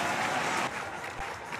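A crowd applauds at a lead climbing competition in the city centre of Munich, a dense wash of clapping that eases slightly partway through, steady and moderately loud.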